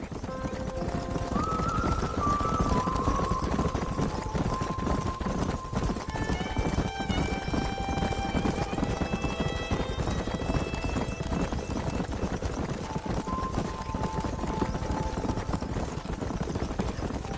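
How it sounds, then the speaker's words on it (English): Hooves clip-clop steadily throughout, with wild horses neighing and whinnying over a dense, continuous background of movement, in the video game Red Dead Redemption. "There's the horses!"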